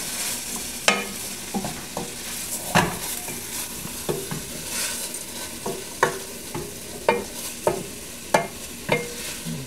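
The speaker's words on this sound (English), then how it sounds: "at this point, I'm going to put in my lentils. And I'm going to stir them around." Lentils stirred around a soup pot with warming spices, a steady sizzle under repeated rhythmic scraping strokes of a spoon, close and fairly loud.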